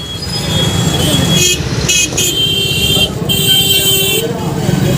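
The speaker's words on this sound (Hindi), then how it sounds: "पूरा ट्रैफिक जाम" Dense traffic jam outside the Banjari temple fair in Raipur, with a steady roar of cars, motorcycles and buses and several short horn toots sounding close by over continuous voices.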